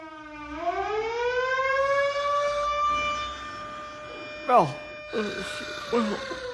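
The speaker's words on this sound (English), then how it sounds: "what's that terrible siren wailing about? Is it an air raid?" An air raid siren winds up and wails steadily with a rising, drawn-out tone, while a person speaks briefly over it near the end.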